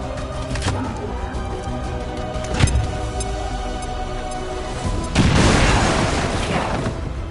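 A frag grenade goes off in XCOM 2, a loud broadband blast near the end that swells and then rumbles on, with a sharp thud earlier and steady battle noise throughout.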